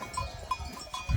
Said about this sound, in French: On est poussé par des moutons.